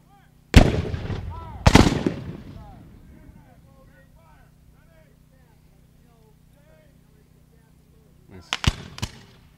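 Civil War reenactment volleys of musket and artillery fire: two loud, booming blasts close together, a long fading echo and quiet gap, then another cluster of sharp reports further on.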